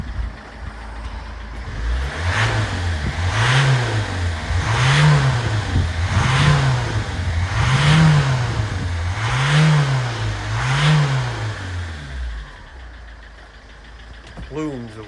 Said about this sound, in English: Obviously I'm revving the engine, yeah?